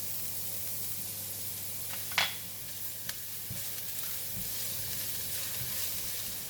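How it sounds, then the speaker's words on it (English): Garlic fries in about two spoons of hot cooking oil for a ginger pork stir fry, a soft, even hiss that runs throughout with one brief clink partway through. "When the oil is hot, I'm putting in the garlic."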